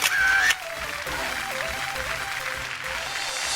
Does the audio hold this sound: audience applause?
yes